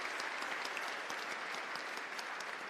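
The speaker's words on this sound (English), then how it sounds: "give her a loud round of applause" An audience claps for a woman at a conversation event with a government minister. The applause is dense and continuous, moderately loud, and fills the whole short stretch with no voices over it.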